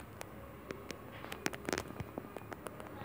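Gunfire in the Mini Militia video game comes as cover fire: rapid, irregular sharp cracks and pops that cluster in a dense burst midway, fairly faint and without voices.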